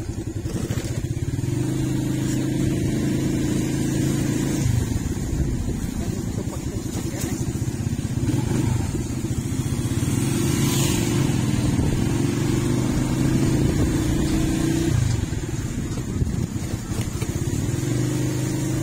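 A steady motorcycle engine drone while riding runs throughout, loud and close, with a low rumbling hum and faint voices mixed in underneath.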